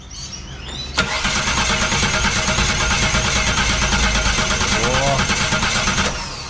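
A 1965 Ford XP Falcon Coupe engine, just given a new fuel pump, cranks and catches after a second, then runs loud and steady at a rough idle, with a brief exclamation near the start.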